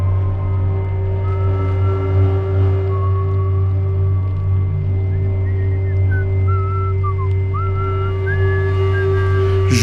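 A man whistling a wandering melody beside a road, clear and fairly close, over a steady low droning hum like a truck engine running beneath it throughout.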